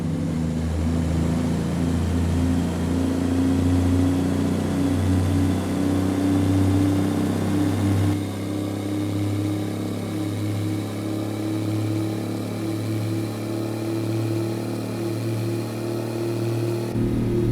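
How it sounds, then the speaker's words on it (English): A heavy Kenworth W900 flat-top truck engine in American Truck Simulator, modded, hums and revs continuously, pitch climbing and settling, with a turbo whine layered over the steady low rumble; no voices. "The turbo noises and overall engine noises of this mod is just incredible."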